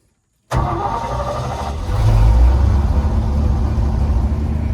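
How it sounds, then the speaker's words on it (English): A truck engine cranks and catches after a moment of silence, then settles into a loud, steady idle close by with a brief surge partway through; the truck has a suspected fuel draw problem from the tank. "Let's start the truck up."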